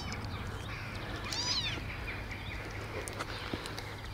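A faint, thin mew from a baby kitten eating cat food for the first time rises once around the middle, with soft shuffling and a low hum in the background.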